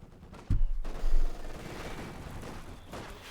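A loud burst of light machine gun fire in the video game Company of Heroes 2, fired by Osttruppen infantry, followed by a sustained rumbling rattle that fades to lower battlefield noise.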